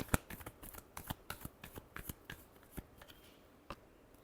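Tarot cards are shuffled by hand in a quiet room, giving a rapid, irregular series of soft slaps and riffles, fairly faint and close.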